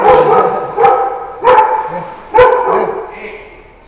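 Dogs bark at a snowy ski area at Fterolaka on Mount Parnassos, Greece: three loud, sharp barks at uneven intervals, close by, with softer yelps and whimpers between them.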